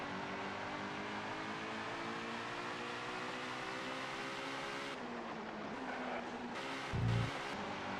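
Lister Storm race car engine in ToCA 2: Touring Cars, a sustained droning hum held at a steady pitch, then shifting lower and rougher partway through, with a brief low thump near the end; quiet overall.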